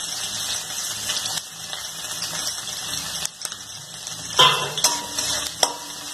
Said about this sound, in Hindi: इसमें लहसुन, मिर्च, अदरक एक साथ में डालूंगी तेल में।